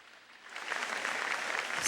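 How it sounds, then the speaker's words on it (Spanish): Church congregation applauding after a scripture reading, clapping swelling in from quiet and holding steady, moderately loud and somewhat distant. "Dale fuerte aplauso a la palabra de Dios."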